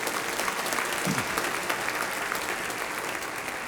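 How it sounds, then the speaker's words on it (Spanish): A congregation applauds during a church service, a dense, continuous wash of clapping from many people that stays even and sustained throughout without pauses. "Un aplauso al Señor"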